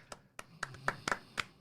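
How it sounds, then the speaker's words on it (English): Two people clap their hands, six sharp, slightly uneven claps in quick succession, close and fairly quiet with no other sound. "we're clapping for you"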